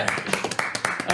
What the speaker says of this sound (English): I start clapping then